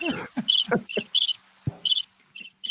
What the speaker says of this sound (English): Oh, we both got crickets.